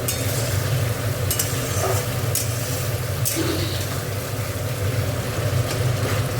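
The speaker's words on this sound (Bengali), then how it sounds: "মশলাটা ভালো করে একটু কষে নিই, মশলাটা ভালো করে কষে নিচ্ছি।" Masala spice paste frying and being stirred in a pan while cooking a shol fish curry, a steady close sizzle with occasional scraping stirs and faint clinks, continuous throughout.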